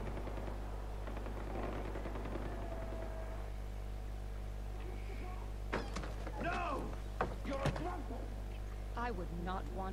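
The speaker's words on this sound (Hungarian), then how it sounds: "Megint megy nagyon a lövöldözés." Gunfire in the video game Far Cry 4, sharp shots and bursts clustered in the second half over a steady game-audio hum, with voices heard at times.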